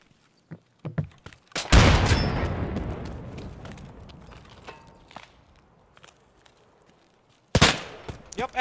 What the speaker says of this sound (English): Cause he's still shooting at me.